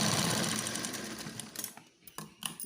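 A sewing machine stitches blouse cloth in one fairly faint, steady run that fades into a few scattered clicks and handling noises.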